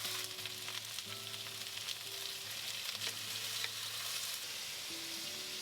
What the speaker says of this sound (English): all you gotta do is just saute the green beans